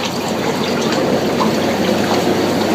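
Water jets of a Cove C100 Impulse 14-jet hot tub run continuously, a loud, dense rushing and bubbling churn of water and air that holds steady throughout without any voices.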